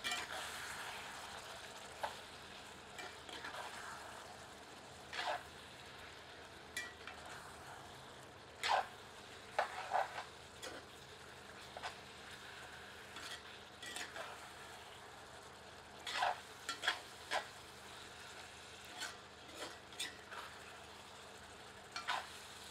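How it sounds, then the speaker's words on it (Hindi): Chicken curry being stirred with a ladle in a cast iron kadhai, with scattered scraping clinks and soft stirring strokes over a quiet simmering background, fairly faint throughout. "एक बार करछी चलाकर सबको मिला देते हैं"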